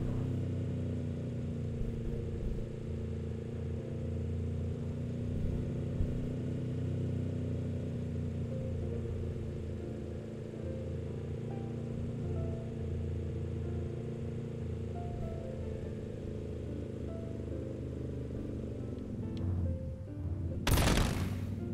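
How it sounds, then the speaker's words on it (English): Steady mid-pitched engine drone of a car driving in Final Fantasy XV, constant and fairly loud throughout with a low rumble, ending in a brief burst of broadband noise near the end. "The car making noise again."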